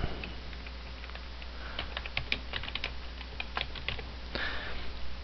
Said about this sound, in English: you can just use your backspace, type in what you want.